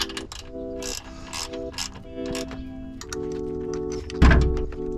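Ratchet clicking in quick bursts as bolts are tightened on an oil catch can under a Nissan 350Z, close and fairly loud, with a heavier clunk near the end.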